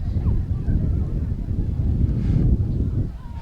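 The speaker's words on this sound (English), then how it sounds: "I don't know if you know it's windy out here." Low, rumbling wind buffets the microphone steadily throughout at an outdoor high school football game in Kewanee, with faint distant voices beneath the gusty roar.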